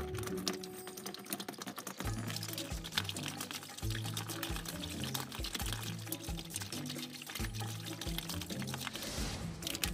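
Water is poured from a pitcher onto a small homemade toy water wheel with barbecue-skewer paddles. A steady splashing pour runs throughout, mixed with quick, rapid clicking and tapping as the wheel spins, all close by.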